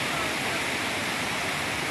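Clear mountain water rushing downhill, a dense, continuous roar of flowing water that holds steady and close throughout.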